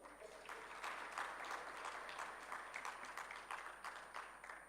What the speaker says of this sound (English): May we please give her a huge round of applause.